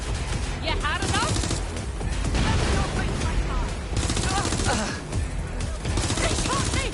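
Rapid bursts of gunfire and automatic weapon fire in the Watch Dogs video game, dense and continuous, with shouting voices over the shots.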